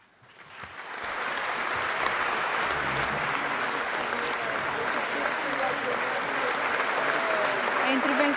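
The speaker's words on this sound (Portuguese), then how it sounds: "A intervenção de Marcelo Rebelo de Sousa, aplaudida de pé pelas bancadas do PS, do PSD e do CDS" Standing applause fills Portugal's parliament chamber after a presidential inauguration speech, swelling within the first second from quiet into dense, sustained clapping from the benches, with a voice talking over it.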